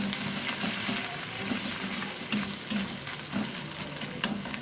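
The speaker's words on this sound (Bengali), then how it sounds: "ভালোভাবে এটা আমি একটু কষিয়ে নেব।" A paste of ground whole cumin, coriander and dried chili fries in hot oil in a pan, sizzling steadily with soft rhythmic stirring scrapes, close and moderately loud.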